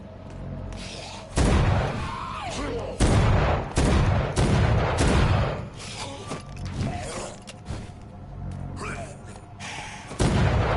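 Gunshots ring out in the video game Vampyr, several loud sharp bursts spaced irregularly among game sounds and voices.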